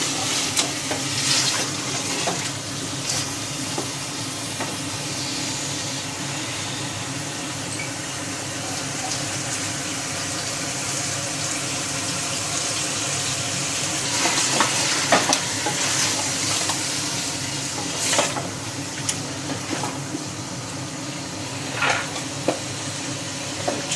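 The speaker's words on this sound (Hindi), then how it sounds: "गोश्त हमारा तकरीबन भुन चुका है" Steady loud sizzling of meat frying for nihari in a pot, with a spoon scraping and stirring through it at irregular moments.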